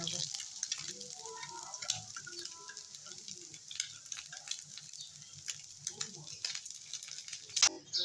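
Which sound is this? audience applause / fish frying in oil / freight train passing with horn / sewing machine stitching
fish frying in oil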